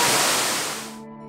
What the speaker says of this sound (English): there are actually two waterfalls in this area